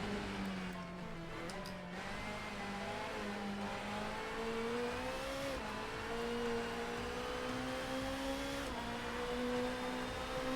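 Front-wheel-drive car engine droning steadily in Assetto Corsa on a tiny layout, pitch rising and dipping gently with throttle and shifts, quiet and continuous.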